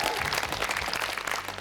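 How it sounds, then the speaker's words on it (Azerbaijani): Audience applause at a university league quiz final, a dense burst of clapping that stays loud and steady for under two seconds. "alqışlayaq, bravo!"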